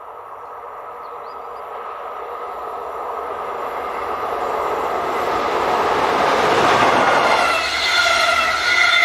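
Locomotive 111066 approaches along a railway through a rocky, narrow river valley, its rumble swelling steadily from distant to loud and close, with no voices.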